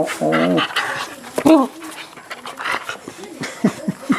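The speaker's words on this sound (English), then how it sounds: "it just seems like there's puppies everywhere" A puppy on a farm in the Philippines pants and whimpers with short whines and breathy huffs close by, while people talk softly around it.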